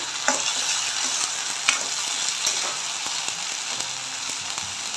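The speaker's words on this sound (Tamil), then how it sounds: "நல்லா வதக்கிடுவோம்" Onion, tomato, ginger and garlic sauté in a pan with a steady close sizzle, broken by scraping stirring strokes and occasional utensil clicks against the pan.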